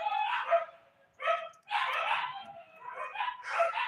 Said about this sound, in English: Please excuse these dogs.